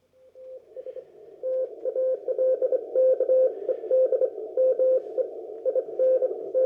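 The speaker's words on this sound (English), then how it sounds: "right now, I'm actually copying CW. Let's listen to it on the radio here." CW Morse code received on an amateur radio comes through as a clean, steady tone keyed in rhythmic dots and dashes. The signal is clear and moderately loud against a quiet background.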